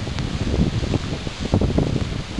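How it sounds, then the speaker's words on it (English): Strong, gusty wind rushing through trees in Linville Gorge, a loud continuous roar that surges and swells in waves, with no talking. "there are some strong gusts coming through"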